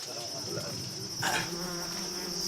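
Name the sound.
swarming African bees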